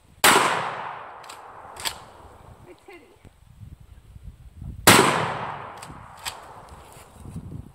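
Two sharp gunshots from a pump-action gun fired at a pumpkin crack out several seconds apart, each trailing into a short decay with smaller pops and rattles after it, outdoors with faint voices.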